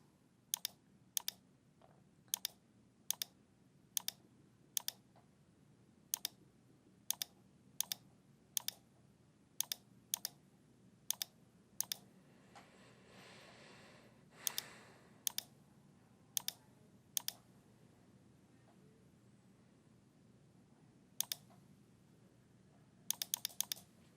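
Computer mouse clicks while working in design software, sharp dry taps in an uneven string over a quiet room, sometimes in quick pairs, close and clear with no talking.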